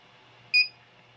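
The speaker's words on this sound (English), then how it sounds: "we'll wait, I think usually up to a minute before we get another beep" A single short electronic beep from a G fence 600z fence controller signalling calibration, clear and fairly high-pitched, sounding once over a quiet background hum.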